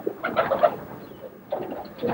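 Roller pigeons cooing inside a loft in England, two soft bursts of murmuring coos separated by a brief lull, close and moderately quiet with no talking.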